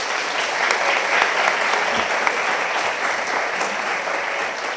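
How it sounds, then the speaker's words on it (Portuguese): Steady, dense applause from an audience at a university lecture event in São Paulo, filling the room at an even level with scattered individual claps standing out, no voices on top. "Palmas para o Wagner."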